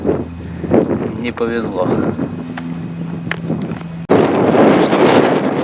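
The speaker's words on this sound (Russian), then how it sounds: "И ветер сегодня просто ужаснейший." Strong gusty wind roars across the microphone at a fishing pond, loud and continuous with a sharp surge near the end, while someone speaks briefly over it.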